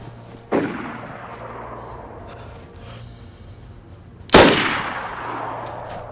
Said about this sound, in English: Bro, how are those shots not hitting?